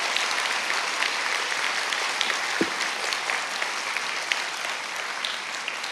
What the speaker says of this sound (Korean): 뜨거운 격려의 박수 부탁드릴게요.